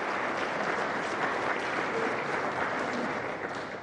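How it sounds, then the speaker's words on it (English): Steady applause from an audience at a World Bank development finance forum, dense and even clapping filling the room for a few seconds without fading. "Please give him a round of applause."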